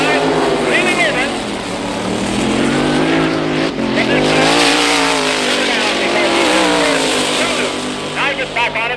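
A 1963 drag racing car launches off the line at an NHRA meet, a loud, rising engine roar that builds and shifts in pitch, heard under a continuous announcer's voice.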